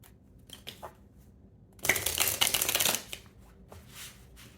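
Tarot deck shuffled by hand in a quiet room: one brisk riffle burst of roughly a second of crisp paper flutter, with a few faint card taps before and after and no voices.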